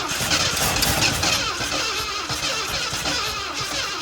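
An old Ford F350 truck engine that sat unused for 22 years cranks and runs roughly, a loud, close, ragged mechanical roar with uneven throttle-held revving throughout.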